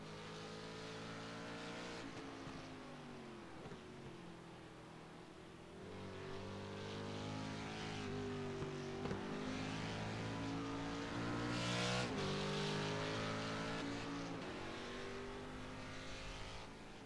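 Sports car race cars roar past on track, engines droning and revving in a continuous, loud blend of multiple cars with shifting pitch as they accelerate and pass.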